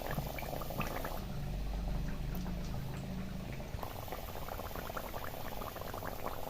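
Potato bhaji fritters sizzle and bubble in hot oil, a dense crackling fry with a steady bubbling undertone, close and moderately quiet, continuing without a break.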